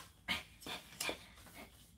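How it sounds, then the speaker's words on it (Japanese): A dog pants in short, breathy bursts with a faint whimper mixed in, close by and fairly quiet, three or four puffs spread over about two seconds. "かわいい犬。"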